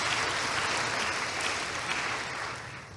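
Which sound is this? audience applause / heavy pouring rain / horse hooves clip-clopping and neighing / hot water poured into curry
audience applause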